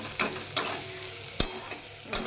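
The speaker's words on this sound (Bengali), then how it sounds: "এখন এই যে পেঁয়াজটা ভাজা বসিয়েছি" Onions frying in a home kitchen pan give a soft, steady sizzle, broken by four sharp clinks of a utensil against the pan, all close and fairly quiet with no talking.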